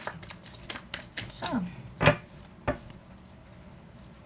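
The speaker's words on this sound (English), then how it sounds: "I feel like I'm gonna stop shuffling" A deck of tarot cards is shuffled by hand in a few quick riffling bursts and taps, close and fairly soft, with a person speaking briefly.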